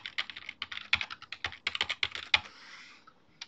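A password is typed on a computer keyboard: a quick, irregular run of close, crisp key clicks, some doubled, ending with a brief softer clatter before quiet.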